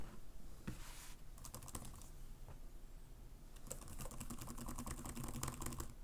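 Keys clatter in quick irregular runs of typing on a Microsoft Surface Pro 11 keyboard, close and fairly quiet, with pauses between bursts.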